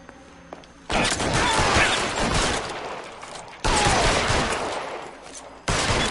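Pistol gunfire during a mansion assault in the video game L.A. Noire: dense bursts of rapid shots in three loud volleys with brief quieter gaps between them.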